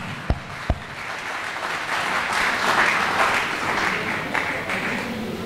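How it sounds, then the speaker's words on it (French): A church congregation breaks into sustained applause after two sharp claps, a dense wash of clapping that swells and holds for several seconds, with faint voices mixed in. "Acclamons pour le Seigneur."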